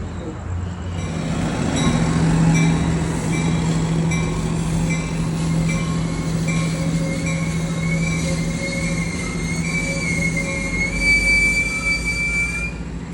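A southbound train pulling into a station, its wheels squealing in long rising metallic tones over a low rumble that builds and carries on for over ten seconds, close and loud.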